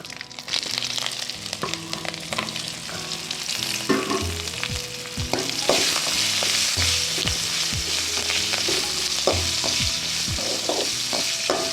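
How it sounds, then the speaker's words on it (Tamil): Boiled okra sizzling and frying in a hot pan with asafoetida, a steady bright crackle with occasional stirring clinks and scrapes throughout. "அதே வேவிச்சு வச்ச வெண்டைக்காய் போட்டுக்கலாம்"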